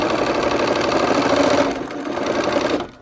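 A sewing machine with a quarter-inch foot stitches a seam in a quick, even mechanical whir close by, slowing briefly midway and stopping at the end.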